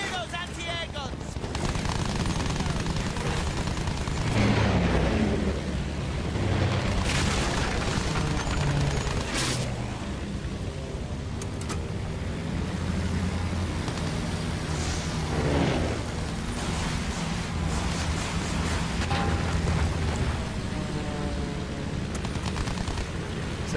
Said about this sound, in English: Next bomb away, coming in.